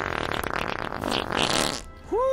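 A long, loud, buzzy fart rumbles close by for nearly two seconds, ending with a brief rising vocal tone.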